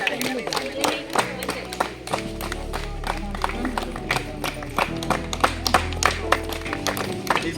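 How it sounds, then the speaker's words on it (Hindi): A group clapping loudly for Pramod at a gathering before a medical camp in a remote Naxal area: uneven rhythmic claps and taps that repeat close by, under a speaking voice and a low background hum. "जोरदार ताली प्रमोद भैया के लिए।"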